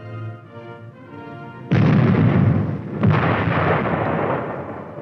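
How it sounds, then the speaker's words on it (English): A 1950s US Army M52 105mm self-propelled howitzer fires a loud, close blast that rolls into a long rumbling decay. A second heavy boom follows about a second later and fades slowly, with no talk over it. "The M52 105mm howitzer provides support from close range for the armor team."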